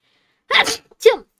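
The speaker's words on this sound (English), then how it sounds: "the sneeze finally happened." A single close, sharp sneeze in two quick bursts, a short intake followed by the explosive release, heard alone in silence.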